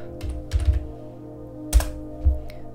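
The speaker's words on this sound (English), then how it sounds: "now you're going to want to type cd desktop." Commands being typed on a computer keyboard, a few scattered close key clicks and thumps with pauses between them against a low steady hum.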